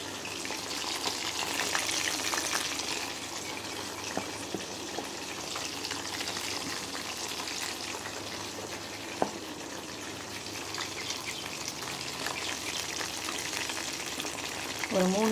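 Mushrooms frying in a pan for Mushroom 65, a steady close sizzle and hiss held for the whole stretch, with a few faint clinks and no talk over it.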